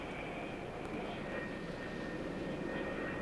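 Jet aircraft on an aircraft carrier deck during a launch cycle produce a steady, distant roar, a continuous engine drone and whine without distinct bursts.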